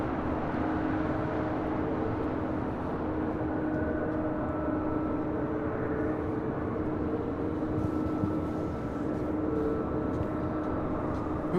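United Airlines Boeing 777-200, 23 years old, arriving at LAX from Chicago O'Hare, a steady distant jet roar with a low engine hum throughout, no voices.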